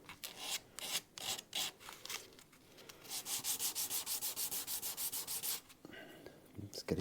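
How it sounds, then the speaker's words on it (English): A 400 grit sanding pad rubs back and forth across a bass guitar body in quick, even strokes, close and fairly loud, with no talking. "I'm just going to give it a quick sand up."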